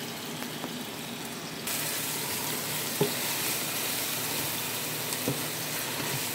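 Blended garlic, onion and green chili paste hits a hot pan and starts frying with an abrupt loud sizzle, then a steady, close hiss with a few small clicks from the pan.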